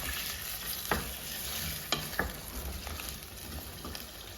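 Steady sizzling of garlic and ginger frying in a pan, with a few sharp clicks of a utensil stirring and scraping; no voices.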